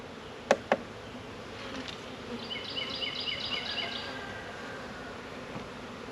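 A soft buzzing of honey bees from a package being installed into a hive box hums faintly over quiet background noise, with two sharp knocks near the start.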